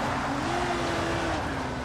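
A car races in the zombie game Dying Light, its engine a steady close drone with a sustained tonal whine throughout the short moment.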